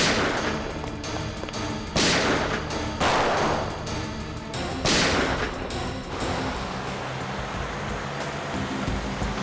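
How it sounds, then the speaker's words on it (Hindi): Rapid bursts of gunfire in a police drama shootout, several loud cracks and volleys at close range over a steady background hum, with no talking. "मुझे कवर फायर दो"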